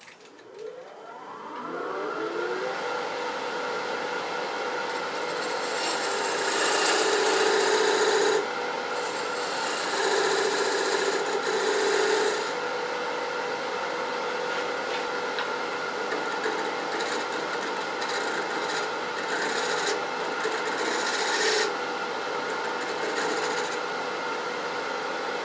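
A scraper tool shaves Australian mallee burl wood on a lathe, a steady close rasping scrape that continues for the whole span with slight shifts in pressure and a faint hum underneath.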